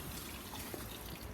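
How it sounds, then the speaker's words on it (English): Water trickles and splashes onto the bumper edge of a 2013 Ford Focus during a water leak test, a faint, steady wash of liquid with a slightly louder splash at the very end. "we're going to put a little bit of water down on this side on the bumper"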